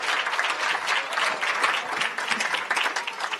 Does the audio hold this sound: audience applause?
yes